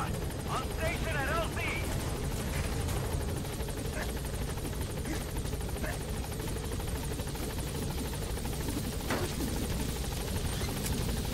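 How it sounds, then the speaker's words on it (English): A helicopter in Metal Gear Solid 5: The Phantom Pain gives a constant, dense rotor roar, holding steady at moderate loudness, with voices briefly heard over it. "I love how nobody notices this helicopter showing up"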